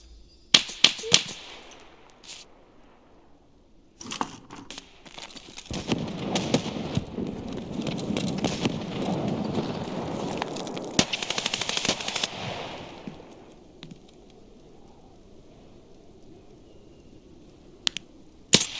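Escape from Tarkov single-player mod firefight: a few isolated sharp gunshots, then a long sustained burst of heavy automatic fire and explosions lasting several seconds, fading to quiet before a couple of final cracks.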